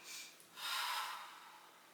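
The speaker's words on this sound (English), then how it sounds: "Deep breath in and out." Deep yoga breathing during a backbend and forward-bend stretching session: a short breath, a pause, then a longer, louder breath, close and alone with no talk.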